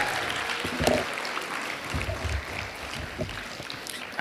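Applause for the schools in a school jingle competition at a child labour forum, a broad crowd-wide clapping texture that holds steady from start to finish.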